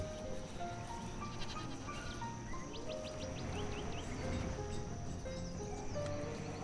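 Livestock goats bleating in the village-building game Banished, several short wavering cries scattered over a busy farm ambience with hoof clopping and other animal calls, no one talking.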